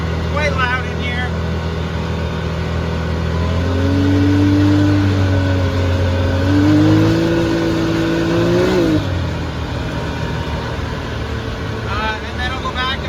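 A Can-Am Maverick X3 Turbo R engine revs up to about 5,000 RPM, heard loud from inside the cab, its pitch climbing and holding steady before dropping, with someone talking over the drone.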